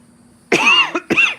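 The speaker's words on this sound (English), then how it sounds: "Pardon my coughing, y'all." A person coughs loudly and close up, two harsh rough coughs in quick succession after a brief quiet moment.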